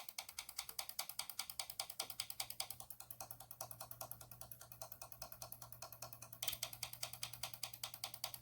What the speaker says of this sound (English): You can hear that solenoid working.